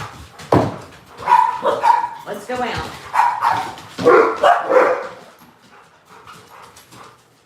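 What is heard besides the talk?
dogs barking indoors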